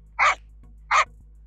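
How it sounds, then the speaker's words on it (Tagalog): Two sharp dog barks, evenly spaced about a second apart, close and loud against near silence. "aso"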